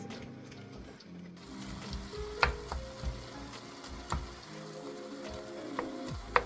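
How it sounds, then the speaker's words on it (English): Ground pork fries in a pan while big chunks are broken up for a tourtière filling. There is a steady low sizzle with occasional scraping knocks of a utensil against the pan, fairly quiet and close. "I'm breaking up the big chunks of meat so that in your pie, in your tourtière, there's sort of an even consistency of the ground pork"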